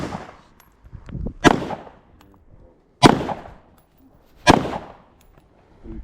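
Gunshots fired at a target on a shooting range, three sharp loud reports spaced about a second and a half apart, each with a short ringing decay, close by amid quiet outdoor background.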